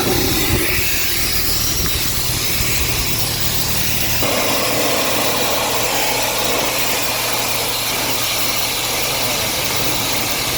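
Water spray rinsing a bicycle drivetrain in winter, a steady broad hiss that runs continuously, starting with a low machine hum and opening up into a stronger, brighter spray after a few seconds, with no talk.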